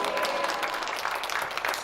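Steady applause from a church congregation, a dense wash of clapping that fills the whole moment without a break.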